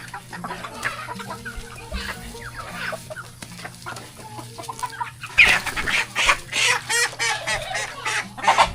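Chickens cluck and squawk repeatedly nearby, growing louder and busier toward the end, with faint background noise.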